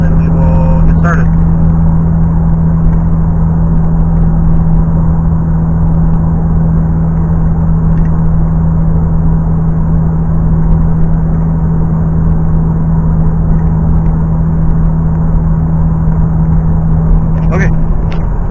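Inside a 2013 Toyota Sienna with its muffler deleted, the exhaust gives a loud, steady, low droning hum that holds unchanged for many seconds. A couple of faint clicks sound near the start and end.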